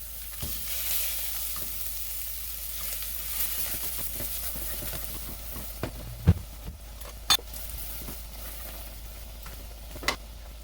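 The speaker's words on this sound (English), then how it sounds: "add 1 stick of butter" A stick of butter melting and sizzling in a pot with cooked, translucent onions, a strong steady fry hiss broken by a few sharp utensil clanks near the end.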